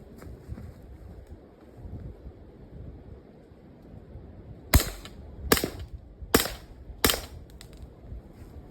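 Four sharp 9mm shots from Ammo Inc stelTH rounds fired through a Mat 9 AR carbine, evenly spaced about a second apart after a stretch of windy outdoor background, each crack fairly muted and brief.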